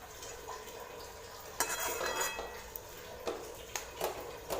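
Butter melting in a pot for homemade ghee, stirred continuously with a spoon that gives occasional light scrapes and clinks against the metal over a soft background.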